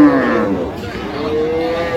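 A milk cow bellows a single long, loud moo close by at a rural cattle market in Dinajpur, with faint crowd chatter underneath.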